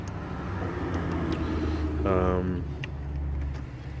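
A 2007 Toyota Camry engine with a leaking radiator is started back up, a low steady idle rumble that swells briefly with a rising harmonic whine near the middle, heard close by.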